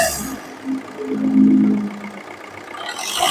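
A 2013 Maruti Swift Dzire's engine, heard close, idles and then swells into a short rev that peaks and eases back down, with a steady low hum underneath and no voices.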